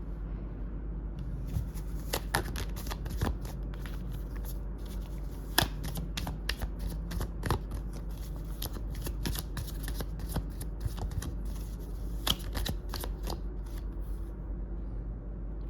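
Tarot cards are shuffled in a long, steady run of soft papery riffles and sharp clicks, close and fairly loud, with no voices.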